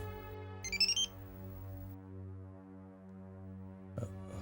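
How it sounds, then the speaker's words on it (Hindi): A short electronic ringtone chirps once over a steady tonal hum, then a brief second burst comes near the end. "आ गया सिंघानिया साहब का फोन"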